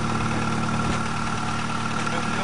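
A car engine idling with a steady low hum and faint vibration, constant and moderately quiet over a couple of seconds, with no voices.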